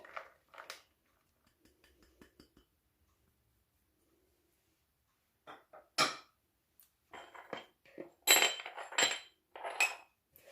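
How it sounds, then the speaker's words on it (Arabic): Butter and sugar are mixed with a spatula in a bowl, heard as sparse, quiet scrapes and clinks separated by silence, then a denser burst of louder scraping toward the end. "كتشوفوا انا غنخلطهم دابا هنا غير بين سباتول"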